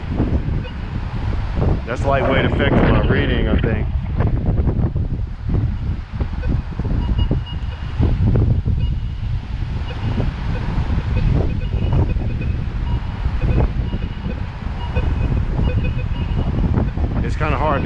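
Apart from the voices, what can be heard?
strong wind blowing on microphone during storm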